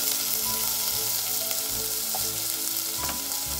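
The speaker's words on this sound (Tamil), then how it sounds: "தக்காளி நல்லா வதங்கணும்." Chopped onion and tomato sautéing in oil in a pan for drumstick leaf soup, a continuous close sizzle with a few soft stirring scrapes, no voices.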